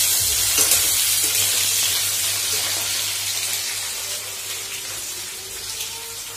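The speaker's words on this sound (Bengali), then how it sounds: "তরকারির জন্য আলু ভেজে নিচ্ছি।" Potatoes frying in oil for a curry in a home kitchen, a steady, close, loud sizzle with a faint low hum underneath, continuing without pause.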